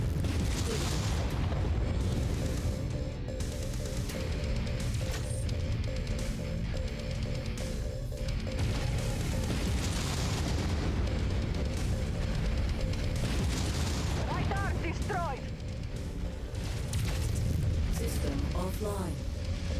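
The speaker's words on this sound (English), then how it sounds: "Ammo explosion. Component lost." An ammo explosion inside a mech in the video game MechWarrior 5 booms in the middle of continuous, dense combat rumble, blasts and mechanical clatter, with a voice heard over parts of it.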